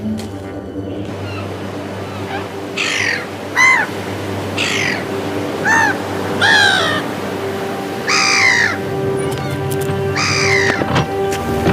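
A gull calls in a string of about seven harsh, clear cries at uneven intervals over a steady low background hum.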